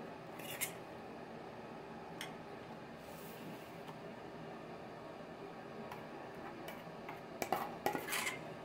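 A utensil stirs tomato vinaigrette made with vinegar and honey in a bowl, giving faint clinks against the dish that cluster into a quick series of taps near the end.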